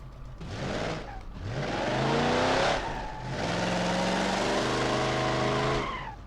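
A Plymouth Cuda Hemi in the video game BeamNG.drive revs hard through rising gear pulls, roaring loudly and close, with brief drops between climbs and a faint tire squeal.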